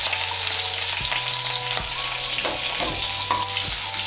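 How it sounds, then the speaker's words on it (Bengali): Crushed garlic cloves fry in hot oil with a spice tempering, giving a steady loud sizzle throughout with a few spoon-stirring scrapes against the pan. "রসুনটাকে একটু ভেজে নেব"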